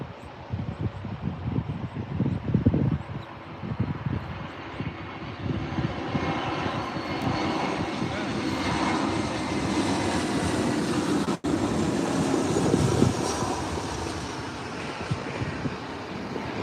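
A Delta airliner inbound from Salt Lake City lands on runway 24R at LAX, its jet engine roar loud and broadband, rising and swelling as it passes close, then staying as a steady rumble to the end.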